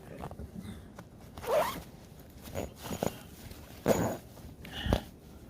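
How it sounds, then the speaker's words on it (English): A zipper on a women's winter puffer coat is pulled open in several short, raspy bursts, close by, separated by brief pauses and light handling noise. "There's a zipper."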